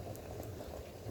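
Rice boiling in a pot on a cooking fire, a soft steady bubbling and burbling, faint and continuous with no voices.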